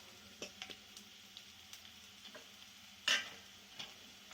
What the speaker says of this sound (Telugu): ఆయిల్ వేడికాక ఆనియన్స్ యాడ్ చేసుకోవాలి తర్వాత కొంచెం కరివేపాకు